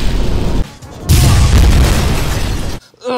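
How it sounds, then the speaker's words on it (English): Big explosions in a Dr. Mario video game boom loudly in two heavy bursts, the second longer and more rumbling, then cut off sharply before a short voice. "How did we survive that big explosion?"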